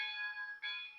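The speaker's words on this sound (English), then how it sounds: "Here's the bell." A locomotive bell from a Soundtraxx sound decoder in an HO scale Rivarossi Union Pacific Big Boy 4-8-8-4 model rings steadily and close for about a second, with a brief dip midway and no talk over it.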